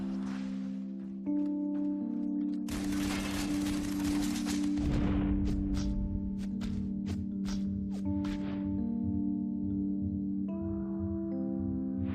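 Far Cry 3 combat with an artillery shell launch and rapid gunfire, a dense burst of shots and blasts building in the middle over steady game music, loud and close throughout.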